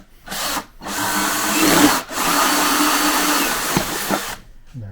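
A saw grinds through hard plastic with a loud, harsh, sustained buzz. It comes in long strained bursts broken by two brief pauses, then cuts off near the end.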